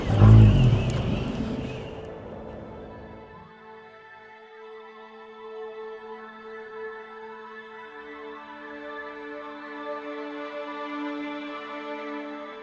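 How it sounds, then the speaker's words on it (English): A skiff's outboard motor running steadily across Florida Bay at sunrise, a loud opening rush of wind and water settling into a sustained, droning engine hum, no voices. "A ride into Florida Bay at sunrise can be a captivating run on a skiff."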